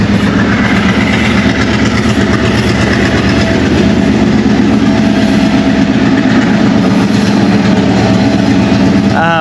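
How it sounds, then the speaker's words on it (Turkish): A loud train passes close by in Sri Lanka, with a heavy continuous engine rumble and rhythmic clatter of wheels on the rails. "Böyle tren geçiyor ve siz izleyip fotoğraf çekiliyorsunuz."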